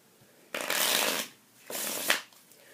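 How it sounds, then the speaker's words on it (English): Two quick riffle shuffles of a card deck, each a crisp rattling burst lasting under a second, close by with a pause between. "I'll give the cards a shuffle."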